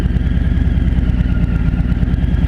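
A 2017 Harley-Davidson Road King Special idles up close with a loud, deep, steady rumble and a rapid, loping pulse.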